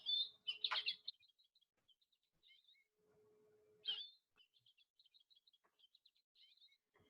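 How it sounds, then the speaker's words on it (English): American goldfinch call played from a small speaker in a stuffed toy bird, thin high chirps and twittering phrases repeated in short bursts with faint tonal hum between, quiet and close. "It is the American goldfinch."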